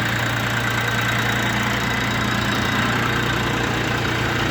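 A 2022 Xingtai XT-244 mini tractor's Laidong KM385 diesel engine idles steadily and loudly, a continuous low rumble with a faint rattling knock, with no voices.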